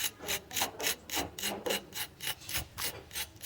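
Crispy fried chicken and potato cutlets being bitten and chewed, about a dozen sharp crunches in a regular rhythm, close and moderately quiet with no speech.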